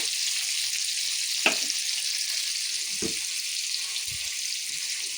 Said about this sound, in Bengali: এবার আলুটা ভাজা হবে।